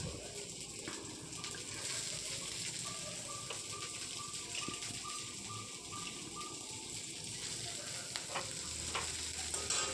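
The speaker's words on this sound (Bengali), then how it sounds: "তো তারপরে আমি পেঁয়াজগুলোকে ভাজার জন্য দিয়ে দিলাম কড়াইয়ের মধ্যে," Onions frying in oil in a kadai give a steady, close sizzle that runs unbroken through the whole stretch with no one talking.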